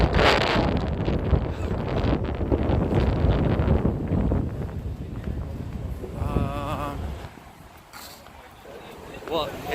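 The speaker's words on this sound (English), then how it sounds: "I'm sure it's just going to gust again" Wind gusts batter the microphone outdoors while walking the streets of downtown San Francisco, a loud broadband rumble that swells and eases over several seconds as faint street sounds and voices mix in beneath.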